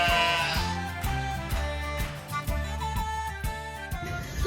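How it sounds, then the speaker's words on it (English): Sheep bleat over a busy musical backdrop, their cries blending into a repeating beat and sustained tones that play steadily and fairly loud throughout. "My sheep have unfortunately been running away, so I have no more time left."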